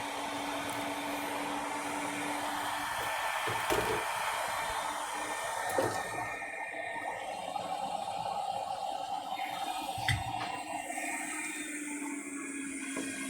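Hot air rework station blowing steadily through its nozzle during electronics repair work on encoders, a continuous airy rush with a faint hum and occasional soft clicks, no talking.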